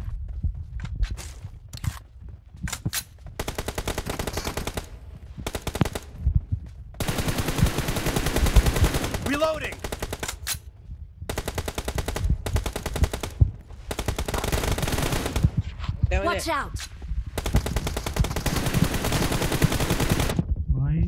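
AKM rifle fire in the mobile battle royale BGMI, with repeated loud automatic bursts separated by short pauses, steady and close throughout.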